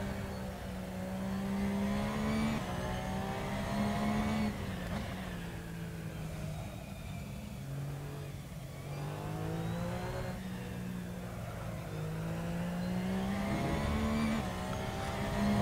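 Race car in Assetto Corsa at the Nürburgring, engine revving hard and climbing through the gears as it accelerates out of a corner, with repeated rising pitch sweeps and a steady close, loud drone.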